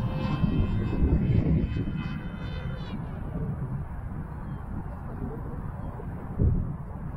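Aircraft engine roaring during a Pirana boomerang maneuver, a loud continuous drone that swells and shifts in pitch, with a brief louder burst near the end and faint voices under it.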